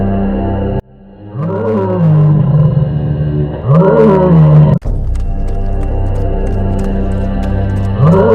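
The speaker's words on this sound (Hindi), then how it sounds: "ये हवा नहीं है, ये उसी आदमखोर की आवाज है।" Deep roars of a man-eating tigress, loud and close, rising and falling in three or four long calls over a steady low rumble of wind, with a sharp thud near the middle.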